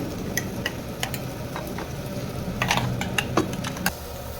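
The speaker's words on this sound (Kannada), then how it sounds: "ಇವಾಗ ಇದನ್ನು ಲೈಟಾಗಿ ಫ್ರೈ ಮಾಡ್ಕೊಬೇಕು" Ground masala frying with softened tomatoes in a pan for tomato bath, heard as a low steady sizzle broken by scattered clicks and scrapes of a spoon stirring against the pan.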